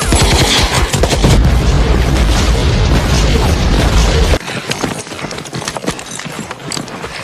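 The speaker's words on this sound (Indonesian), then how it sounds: "lesatan dari artileri pasukan Amerika mulai diluncurkan" American artillery fire in a battle against Japanese forces, dense booming blasts and rapid crackling bursts piling up loudly, then thinning into scattered sharper reports.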